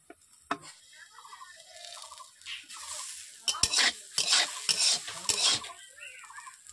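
Potatoes frying in a pan over a wood fire, with stirring and scraping of a utensil against the pan in loud bursts over a faint sizzle.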